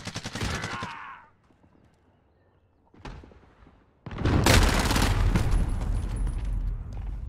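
Gunfire aimed at a UAV overhead in Call of Duty: a short burst, a long quiet gap, a single sharp report, then a sustained loud stretch of automatic fire and explosive rumble.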